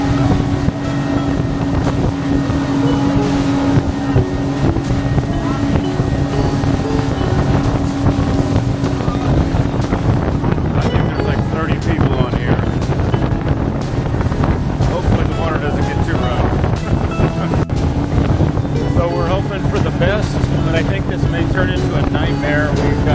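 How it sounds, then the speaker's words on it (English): Motorboat carrying passengers across open water toward Yelapa on the Jalisco coast of Mexico; a steady, loud engine roar runs throughout, with constant wind buffeting the microphone. "And we're on the boat heading to Yalapa."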